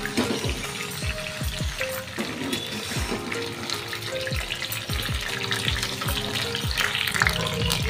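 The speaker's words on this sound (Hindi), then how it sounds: "जो पत्ता गोभी है ना, तो इसको हम फ्राई करेंगे।" Shredded cabbage fries in a pan in a home kitchen, a steady, dense sizzle with a wet, watery hiss running throughout, broken by repeated short low thumps.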